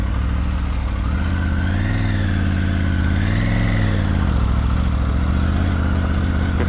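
Triumph Tiger 900 Rally Pro motorcycle pulling away slowly up an incline, a steady close engine drone with gentle rises and falls in pitch as the throttle is eased, running smoothly without lugging.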